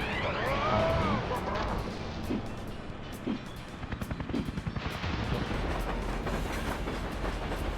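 A train rumbles along in the video game Arctic Thunder. There is a steady rolling clatter with rapid clickety-clack pulses, and game music and a speaking voice sound over it.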